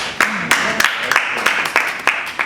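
An audience at a community centre session claps hands, a burst of fairly close, irregular claps repeating through the moment with no talk over them.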